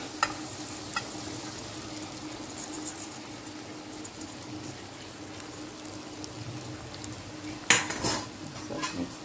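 Poha is stirred into cooked onions and potatoes in a pan, with a soft continuous scraping and occasional metal clinks, then a louder clatter of the utensil against the pan near the end.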